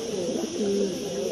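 Pigeons coo in a pigeon loft, a low steady murmuring that stays close and continuous, with no talking over it.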